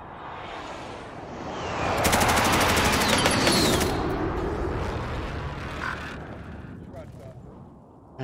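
Loud, sustained bursts of automatic gunfire and explosions fill a multiplayer shooter match, swelling in the middle and rumbling on throughout, with players talking over the action.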